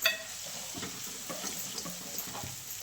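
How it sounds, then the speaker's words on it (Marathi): Spices stirred into a hot tempering in a cooking pan with grated coconut paste, turmeric and black chilli powder, a faint steady sizzle broken by soft scraping stirs, with no talk. "सगळं आता व्यवस्थित मिसळून घेते"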